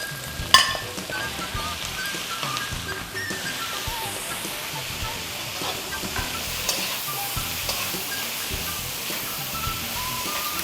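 Seafood medley dropped into a hot pan, a steady bright sizzle and frying hiss with a sharp clatter at the start, continuing evenly at moderate level without talk.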